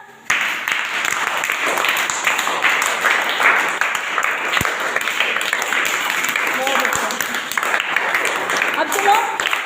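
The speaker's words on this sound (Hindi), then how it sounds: "सभी लोग पर ताली बजाएं।" A group breaks into lively clapping that starts abruptly and carries on steadily for several seconds, with voices chattering underneath the applause.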